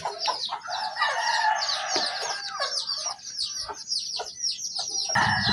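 Hens cluck busily and a rooster crows loudly over them, a dense, continuous farmyard chorus with no talking.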